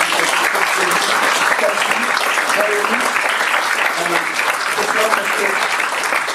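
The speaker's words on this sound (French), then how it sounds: "Donc applaudissez Yves" An audience at an association lecture applauds warmly, a loud and continuous clapping that holds steady, with a few voices faintly audible beneath it.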